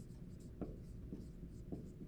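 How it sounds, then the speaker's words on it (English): A pen scratches softly across paper while notes are written, making faint, close strokes with small repeated taps in a quiet room. "let me write this down"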